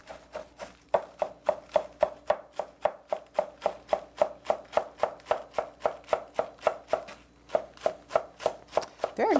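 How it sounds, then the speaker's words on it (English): A knife slices rolled-up greens into thin chiffonade ribbons on a cutting board, making a steady, evenly spaced run of crisp chops, about three per second, close and clear with no talking. "you roll it up and you make thin slices"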